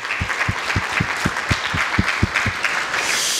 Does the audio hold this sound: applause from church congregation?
yes